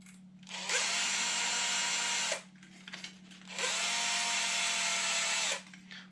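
A cordless screwdriver drives screws while an RC car's front end is assembled, two loud steady whirring bursts of about two seconds each separated by a short pause with faint handling clicks, under a constant low hum.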